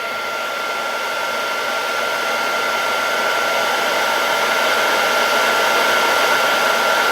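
A heat gun blows hot air onto a Roplene HDPE Triumph boat during repair, a loud, steady close-up roar of rushing air that holds constant without pause.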